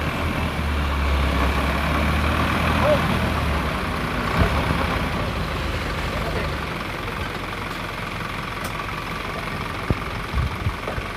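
A delivery truck bringing building materials sits idling nearby, its low, steady engine rumble running throughout under faint background voices, with a few small knocks.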